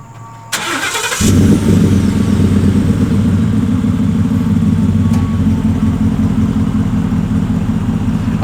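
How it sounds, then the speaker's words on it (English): A 2017 Ford F-150 5.0 V8 with a MagnaFlow muffler and stock resonators cranks and fires, then settles into a deep, rumbling exhaust idle that burbles steadily and loudly for several seconds. "I do have the MagnaFlow muffler. I'll let you all hear that real quick."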